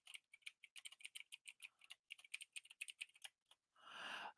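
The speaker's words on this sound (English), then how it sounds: "I forgot what I was typing." Rapid, irregular keystrokes on a computer keyboard clatter in close, quiet bursts for about three and a half seconds, then stop as a short hiss of noise swells at the end.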